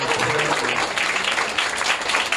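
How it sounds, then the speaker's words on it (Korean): A church congregation at a Sunday service gives a warm round of applause welcoming a newcomer, dense steady clapping from many hands filling a short burst. "우리 큰 박수로 환영합니다"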